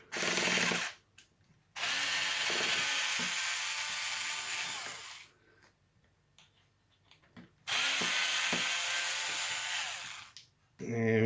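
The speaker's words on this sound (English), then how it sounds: "let's get out these" A power driver unscrews screws from the rear differential of a Traxxas X-Maxx RC truck in two long, loud, steady whirring bursts, separated by quiet gaps holding small clicks and handling noises, with a brief third burst starting at the end.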